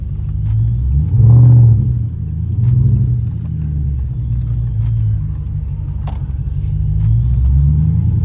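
Supercharged Chrysler 300C driven at night, its engine rumbling and revving in several surges with a loud burst near the start, steady ticking throughout, and a sharp hiss around the middle.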